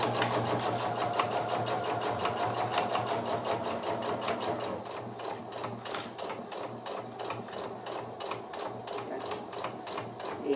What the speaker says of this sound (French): Et j'y vais pour coudre la longueur.